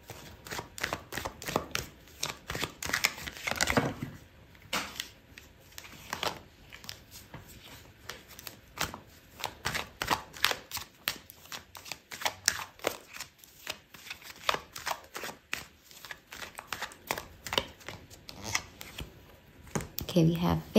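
Tarot cards shuffled and drawn during a Scorpio love reading, a run of papery riffles and slaps that comes in irregular bursts through the clip, with a voice talking at times between them.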